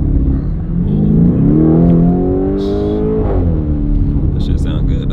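A Rolls Royce Cullinan's engine revs loudly, pitch climbing and then dropping in a smooth rise and fall, with a voice heard briefly over it.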